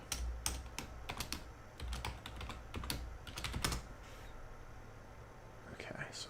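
Keys clack on a computer keyboard in quick bursts with short pauses, close and fairly quiet over a soft room hum, no talking.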